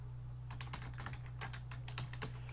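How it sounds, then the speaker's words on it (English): Quiet, close typing on a computer keyboard: a brisk run of separate light key clicks over a steady low electrical hum, with no voices. "click on the address bar and type in CMD to open up a DOS window in that folder"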